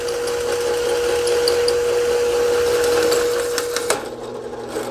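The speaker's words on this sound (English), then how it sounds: "a few minutes with a hole saw is all it takes to take care of that" A hole saw whines steadily through aluminum bumper mounting brackets on an '83 El Camino, a close, sustained grinding drone with a faint tonal hum that stops abruptly near the end.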